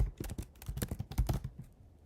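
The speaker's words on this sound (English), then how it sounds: "So you just type in their email," Close, quiet keystrokes clatter in an irregular run as an email address is typed on a computer keyboard, then fade out.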